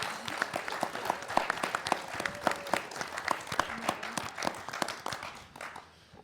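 Audience applause at a Texas middle school quiz show, many separate sharp hand claps in a lively patter, moderately close, tapering off and fading out at the end.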